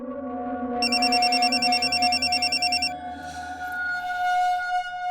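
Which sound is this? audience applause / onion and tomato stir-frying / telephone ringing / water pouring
telephone ringing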